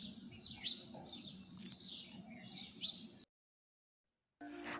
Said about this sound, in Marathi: पक्ष्यांचा चिवचिवाट देखील ऐकायला येतोय.